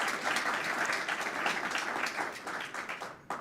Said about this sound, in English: Let's have another round of applause for the presenters.